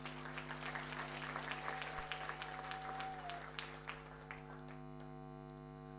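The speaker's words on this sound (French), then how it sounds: "Applaudissez pour eux, s'il vous plaît." An audience at a presentation gives quiet, distant applause over a steady electrical mains hum, fading out and leaving only the hum.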